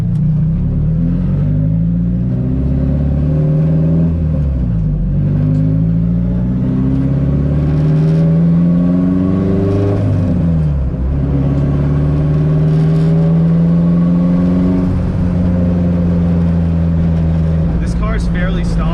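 A turbocharged SR20 engine in a Nissan S14 drones loudly and continuously, its pitch rising and falling through gear changes, heard close up from inside while driving on the street.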